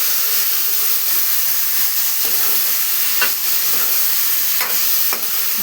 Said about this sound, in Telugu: మొత్తం కలిసేలాగా ఫ్రై చేసుకొని